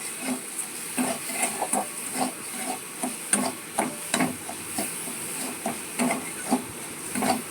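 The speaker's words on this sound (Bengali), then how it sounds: "এরপরে আমি ক্যারামেল তৈরি করবো চিনি দিয়ে" Sugar, lightly moistened with water, cooks into caramel in a pan for a coconut-water pudding, with a soft steady sizzle and a spoon scraping and stirring in a quick irregular rhythm close by, no voices.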